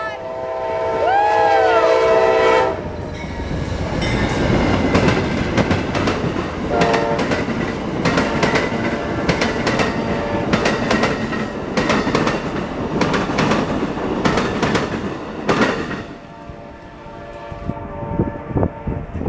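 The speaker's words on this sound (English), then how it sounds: "Here goes Amtrak PO 91." An Amtrak P091 passenger train passing close and loud, its horn blaring at the start and then giving way to a sustained rumble and clickety-clack of wheels over rail joints, easing off near the end.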